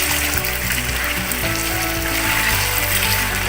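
Chicken pieces fry with garlic in a handi pot for achari chicken, a loud, continuous sizzle and crackle with no voices over it.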